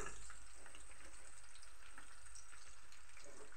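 Carrots frying in a pan with garlic for vegetable biryani, a dense, steady sizzle heard up close and unbroken for the whole stretch, no voices over it.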